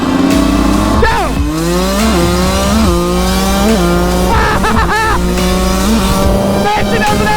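Yamaha Banshee 350 and Honda CR125R two-stroke dirt bikes drag racing on pavement, engines screaming loud and close as they rev up through repeated gear shifts, pitch climbing and dropping with each change.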